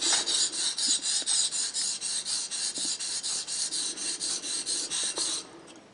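Mora 612 knife blade being sharpened on a stone, about twenty rhythmic rasping strokes back and forth, close and steady, then fading off.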